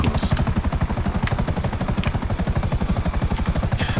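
A helicopter in the Grand Theft Auto V video game drones close by with a fast, rhythmic rotor chop that holds steady throughout, loud and without speech.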